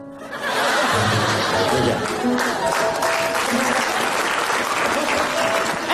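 A live audience breaks into sustained, dense applause that swells within a second and keeps going strongly to the end, with scattered cheers mixed in.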